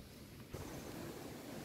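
Ocean waves at the sea rolling in as a constant broad wash of surf, with a slightly stronger surge midway and wind rumble on the microphone, no talking.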